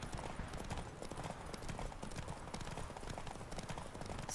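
Roach, a horse in The Witcher 3 video game, gallops with a quick, continuous clip-clop of hooves at a faint, steady pace.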